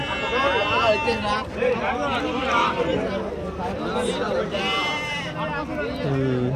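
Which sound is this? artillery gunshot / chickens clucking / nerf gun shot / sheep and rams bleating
sheep and rams bleating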